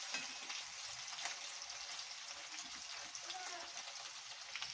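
Mutton pieces with a dried chili sizzle and fry steadily in a hot pan, a continuous crackling hiss with faint stirring under a quiet background.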